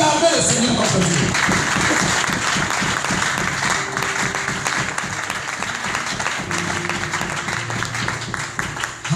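A church congregation at a French-language service applauds and cheers for the Lord, a sustained wash of clapping that carries on for several seconds with voices mixed in.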